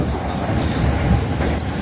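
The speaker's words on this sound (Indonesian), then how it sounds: "perjalanan kereta api Tegal Bahari" The Tegal Bahari executive train rolls along in a short stretch of loud, steady rumbling with dense rattling and wheel noise, no voices.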